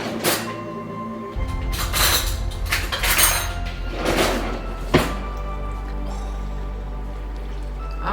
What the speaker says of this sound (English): Now we're going to take a spoon and toss that around and get it all going.